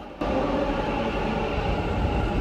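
A train rumbles loudly and steadily, starting abruptly and filling the space with constant rolling noise and no voices.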